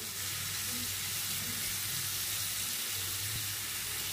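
Onions frying in oil with half a tablespoon of salt, a steady dense sizzle with faint clinks, continuous and even throughout.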